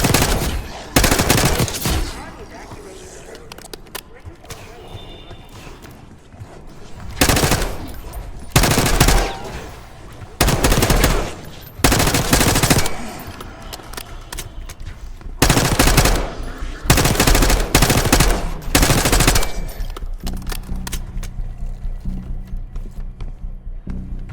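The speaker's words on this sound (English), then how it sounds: "You hearing gunfire?" Bursts of rapid automatic gunfire from Call of Duty: Black Ops 6 ring out repeatedly, loud and sharp, separated by short pauses, with a steady background rumble between volleys.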